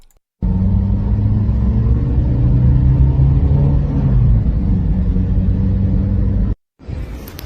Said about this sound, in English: Massive freaking storm in Brazil right now.